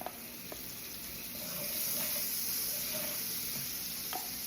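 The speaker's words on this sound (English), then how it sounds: "I'm gonna take my plant-based butter, I'm gonna place it into my skillet." Plant-based butter sizzles in a skillet as mushroom steaks are prepared, a quiet, steady hiss with faint crackles and a few soft clinks, building slightly midway.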